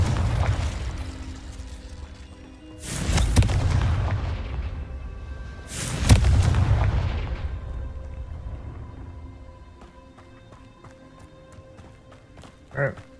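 Confringo fire spell blasts in the Hogwarts Legacy video game, two heavy booming explosions a few seconds apart, each with a long rumbling decay, followed by quieter game ambience and a small thump near the end.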